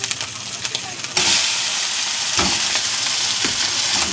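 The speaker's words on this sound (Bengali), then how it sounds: "চাউমিনটা দিয়ে কিন্তু নাড়া দেবো," Chowmein with scrambled eggs being stir-fried in a pan, a quiet hiss that jumps to a loud, dense sizzle about a second in, with occasional spatula scrapes and tosses, close by and without talk.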